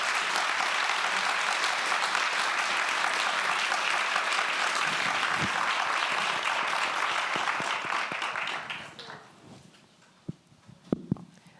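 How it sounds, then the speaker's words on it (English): Sustained applause from a large audience at an art talk, steady and dense, then fading out into a few scattered claps and quiet. "I just want to give a round of applause to Tao and Woody for"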